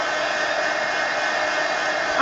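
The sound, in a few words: hair dryer drying paint on an art journal page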